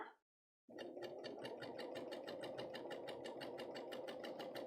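A Bernina overlocker serger stitching a cover hem over a bulky seam starts after a brief pause, then runs at a steady fast rhythmic whir, close and even throughout.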